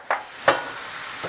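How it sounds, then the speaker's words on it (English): Sausage and mushroom stems cook in a pan, a soft steady sizzle broken by a few sharp scraping stirs, close and fairly quiet, with no voices. "I'm going to cook this until the stems cook down slightly"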